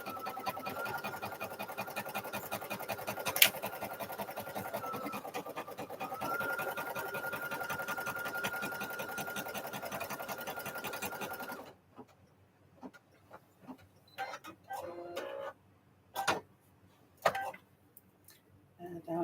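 A sewing machine stitches a name with a steady, rapid mechanical whir for about twelve seconds, then cuts out, leaving scattered quieter clicks and handling noises.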